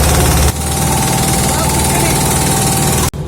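A local fishing boat's engine drones loud and close at night on the Meghna river near Tazumuddin ghat in Bhola. It gives a steady, heavy rumble with brief dips near the start and end.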